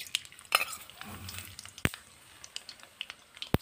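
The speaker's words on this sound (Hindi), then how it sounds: "ऑयल अच्छे से गर्म हो चुका है, अब इसमें हम डालेंगे 1 चम्मच राई के दाने" One spoonful of mustard seeds hitting hot oil in a pan, a soft sizzle with scattered sharp pops and crackles and a clear clack of a spoon or pan.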